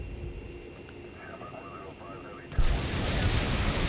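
Heavy bombardment on an enemy home base in a strategy video game: a steady low rumble gives way to a sudden loud blast at about 2.5 seconds, then a dense, sustained roar of explosions and fire.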